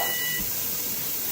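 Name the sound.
timer beeping while canning pork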